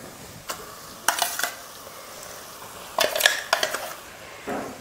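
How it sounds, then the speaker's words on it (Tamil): Minced mutton stirred in a pan for keema biryani: a few bursts of scraping and clinking against the pan, separated by quiet gaps, at moderate volume. "இப்போ இதை கலந்து விட்டுறலாம்"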